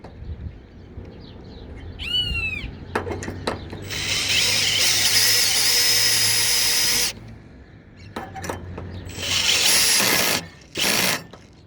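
A power drill driving screws into a fixer for Roman roof tiles, with two long steady whirring runs and a couple of shorter bursts, separated by clicks and handling clatter, and a brief squeaky chirp early on.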